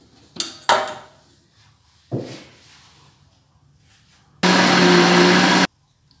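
Kitchen blender chopping cassava pieces: a few clunks as pieces drop in, then a loud steady whirring motor burst of about a second before it cuts off.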